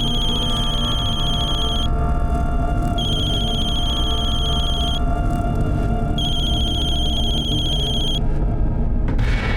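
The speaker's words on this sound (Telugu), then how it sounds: "అమ్మ రింగ్ పోతుంది, అయినా ఫోన్ తీయనంటుంది." A phone rings in repeated electronic bursts, each about two seconds long with short pauses between them, sounding steadily over a low background hum.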